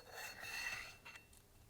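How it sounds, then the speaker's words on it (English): An old gasket is scraped off the rear cover of a DESMI ROTAN gear pump during an overhaul: a faint, dry rasping scrape lasting about a second, then a couple of brief lighter scratches. "Remove the old gasket from the rear cover."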